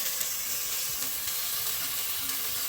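Tomatoes go into a pan of sautéing onions for kappa biryani, setting off a steady, close, hissing sizzle with faint scraping stirs underneath and no talk.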